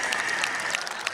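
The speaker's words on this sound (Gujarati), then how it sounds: "તાળી પડાવો બાપા માટે" A live audience at a spiritual festival in Surat claps steadily for about a second, a dense, even patter of many hands filling the room with no voices over it.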